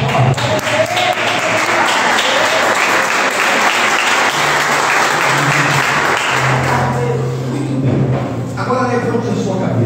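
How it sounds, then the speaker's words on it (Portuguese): Loud, sustained applause from a church congregation at a family worship service fills most of the clip, then fades as a voice and low tones take over near the end. "você pode aplaudir ao Senhor bem forte"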